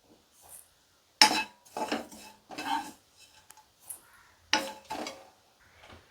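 Vermicelli dry-roasting in a pan as a spatula stirs it, heard as short, quiet bursts of scraping and clattering against the metal with near-silent gaps between them, with no talking.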